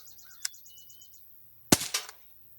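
A single sharp, loud shot from an Umarex Smith & Wesson M&P 40 .177 CO2 pistol, with a brief hissing tail and a faint chirping bird in the background just before it.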